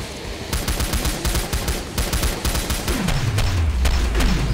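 Rapid, loud gunfire in the video game Killing Floor, sustained bursts of shots close up, with a falling tone near the end.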